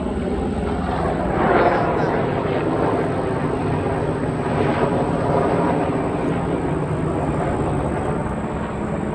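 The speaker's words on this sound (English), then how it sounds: "That helicopter pass." A helicopter passing overhead of a garden, a steady droning rotor and engine roar that swells briefly, heard under a person talking.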